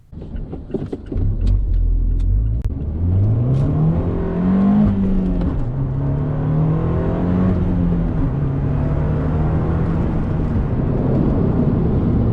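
Inside a Fiat 124 Abarth with a stock exhaust, the engine and exhaust rumble loudly and rev up, pitch climbing and then holding at a steady drone. A few clicks come at the start.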